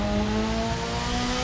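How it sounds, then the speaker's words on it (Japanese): Mazda RX-8 (SE3P) rotary engine accelerating in the racing game The Crew 2, a steady buzzing drone with rising harmonic tones, loud and continuous with no talk. "ロータリーエンジン結構いい音するやん、そこそこいい音するよこれ。"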